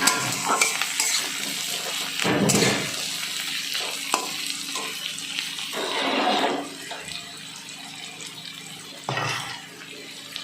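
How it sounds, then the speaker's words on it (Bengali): Crushed garlic frying in a pan of oil for a chhana (paneer) dish, a steady close sizzle broken by louder scraping bursts as it is stirred now and then. "রসুন থেঁতো করে রেখেছিলাম রসুনটা দিয়ে দিলাম দিয়ে একটু ভালো করে নেড়ে দিচ্ছি"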